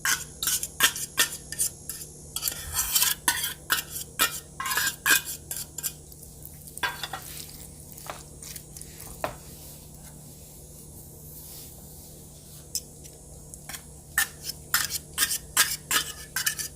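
A fork scraping and clinking against a bowl while breaking up four cans of tuna, a run of quick, close metallic taps and scrapes that pause briefly midway and then resume.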